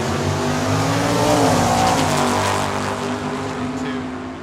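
Drag race cars at Tucson Dragway, a 1962 Chevy Bel Air against a Camaro, produce loud, close engine roars with strong harmonic tones that rise and then ease off over a few seconds, with no speech.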